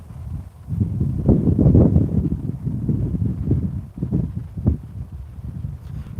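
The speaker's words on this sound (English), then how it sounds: "because it is quite windy, I must say" Strong wind buffets a microphone on a riverbank during lure fishing, giving a low, gusty rumble that swells and eases without a break.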